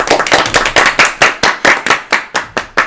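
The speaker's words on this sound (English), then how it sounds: "Everyone claps." A group claps in a game cutscene from Super Mario Bros: Forbidden Zones, with loud, sharp bursts of hand claps repeating in a steady rhythm, about five per second and slowing slightly toward the end.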